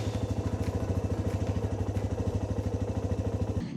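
A Suzuki EN 125cc motorcycle engine putters with a steady, rapid rhythmic thump, close and continuous, then cuts off abruptly at the end.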